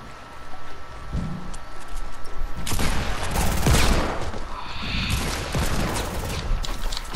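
Gunfire crackles through a video game battle, with dense bursts of rapid shots and booming blasts building to a loud, sustained barrage in the middle and continuing steadily to the end.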